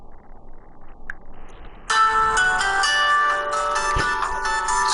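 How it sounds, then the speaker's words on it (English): A phone ringtone for an incoming call breaks in suddenly after a quiet stretch, then rings loudly and steadily as a sustained melodic tone through the rest of the clip, with no talking over it. "Sorry guys, I have a phone call."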